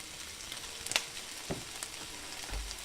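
Carne asada chars in a hot pan, giving off a low, steady sizzle with a few faint crackles and pops, quiet and close.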